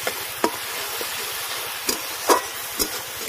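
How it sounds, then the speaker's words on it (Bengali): Tomato paste sautéing with ginger, garlic and green chilli paste for a jackfruit and prawn dish, a steady moderate sizzle broken by a few sharp clicks of a spatula against the pan. "এবার দিয়ে দেবো টমেটো বাটা, টমেটো বাটা, টমেটো বাটা সব কিছুর সাথে হালকা কষিয়ে নেব।"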